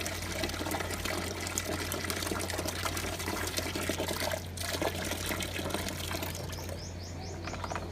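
Water sloshes and splashes continuously across a floor being washed in a home courtyard, with a steady hum underneath and faint bird chirps near the end.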